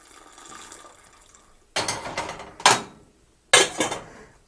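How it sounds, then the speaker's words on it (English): Tannin substitute liquid poured into a strawberry rhubarb wine mix: a faint trickle gives way to three short, close bursts of splashing and pouring, each starting sharply and tapering off, with quiet pauses in between. "let's go ahead and add our tannin substitute to the mix"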